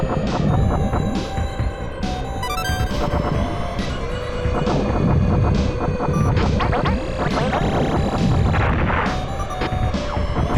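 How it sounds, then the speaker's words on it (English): Enemy laser fire in the SNES game Star Fox, repeated sharp blasts at irregular intervals buried in a busy mix of synth music and a droning, throbbing spacecraft hum that never lets up. "Am I getting shot by something, like, behind me?"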